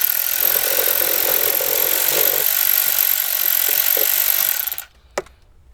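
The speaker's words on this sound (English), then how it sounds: "Go ahead and loosen the 10 mil bolt back here." A loud, steady power tool whirs continuously while loosening a 10 mm bolt on a Jeep Wrangler JK during a backup camera installation, then it cuts off abruptly, followed by a single sharp click.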